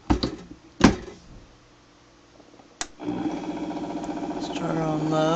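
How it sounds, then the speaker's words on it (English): A Vitamix blender mixing raw cashew yogurt: a few clunks from the lid and container, then the motor kicks in and whirs steadily, its pitch climbing as the speed is raised. "Start on low and move the dial on up. It's Vitamix."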